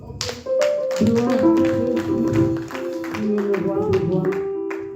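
A church congregation claps rhythmically during a Sunday service, steady repeated claps alongside singing voices and a sustained melodic tone.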